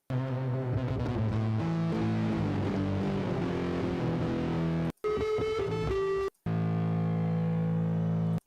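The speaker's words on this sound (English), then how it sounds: "This is the most distortion you're going to get, his little bass pedals here." A bass guitar played live at a concert through small distortion pedals, giving loud, sustained, gritty low notes and riffs that stop briefly twice before resuming, with no talking.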